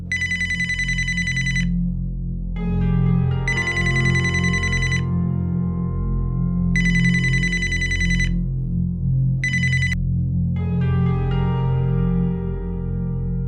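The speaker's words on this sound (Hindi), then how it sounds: "ये कौन फोन कर रहा है?" A telephone rings in a scene from a Pakistani TV drama: a bright electronic ringtone sounds in repeated bursts with short gaps between them, loud and clear over a steady low musical background.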